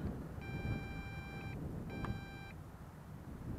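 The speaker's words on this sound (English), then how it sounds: "still going to be beeping because low battery warning is on" A small drone sounds its low battery warning as two electronic beep bursts, each a steady tone of about a second, over a constant outdoor background hiss at a flying field.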